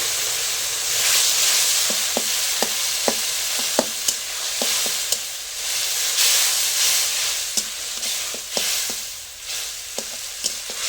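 Mixed vegetables with turmeric and salt sizzle steadily in a pan after water is poured in, a loud continuous hiss broken by regular sharp clicks of a spoon stirring against the pan.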